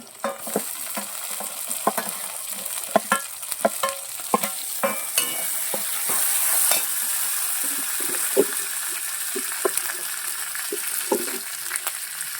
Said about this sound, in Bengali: তো ঝাল লঙ্কা আর জিরি মরিচ দিয়ে দিচ্ছি, সাথে কুচনো টমেটো দিয়ে দিচ্ছি